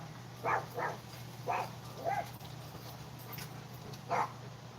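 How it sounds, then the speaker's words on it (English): A small dog gives several short, sharp barks in quick bursts, moderately loud over a steady low electrical hum in an indoor room. "he lets out like a different bark, and you can hear it"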